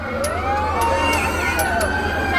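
Fire truck sirens wail loud and continuous as firefighters arrive at a big blaze in Quiapo, the rising and falling tones layered over crowd noise and a low engine rumble.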